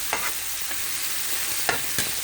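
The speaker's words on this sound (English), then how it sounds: "I add my sausages to the shrimp to saute as well." Shrimp and sausages sauté in a pan, a soft steady sizzle broken by a few brief scrapes and stirs of a utensil, heard close and alone without any voices.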